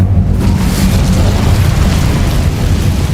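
Incendio fire spell explosion in Hogwarts Legacy, a loud, sustained roaring blast that fills the whole moment with dense, rumbling burst energy and no talking.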